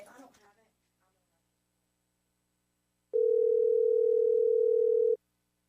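A steady telephone dial tone on a radio studio phone line sounds alone for about two seconds after a brief spoken remark, loud and constant before cutting off.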